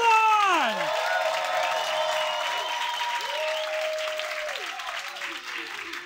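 Audience at a London comedy night applauds and cheers as a comedian is welcomed onto the stage, steady loud clapping with whoops for the full stretch, slightly fading toward the end, with some voices over it.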